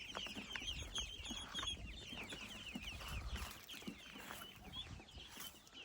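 A flock of chickens clucks and chatters continuously nearby, overlapping calls with a low rumble of background noise, with ducks also present.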